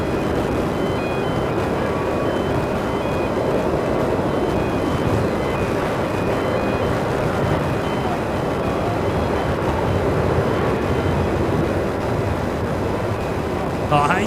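A Qantas Boeing 737-800 arriving at Melbourne Airport, a steady, dense jet roar sustained throughout at moderate distance, with a faint high tonal whine and a brief rising sweep near the end.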